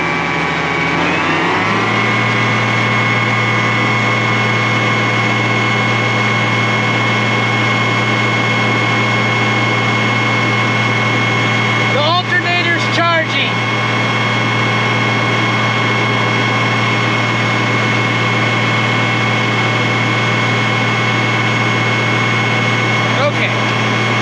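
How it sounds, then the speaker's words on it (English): An International Harvester 6588 tractor engine runs steadily close by with a strong low hum and a high whine, throttled up a little early on and then held at the higher speed, with a brief clatter of handling noise partway through. "I wonder if we throttle up the engine a little,"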